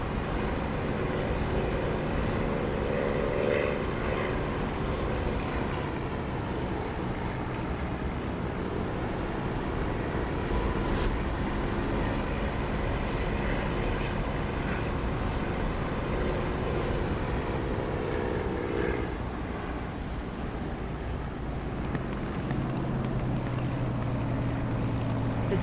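Spitfire propeller aircraft engine droning in the DCS flight simulator, a steady mid-level roar with shifting pitch as the plane maneuvers, continuous throughout with no talking.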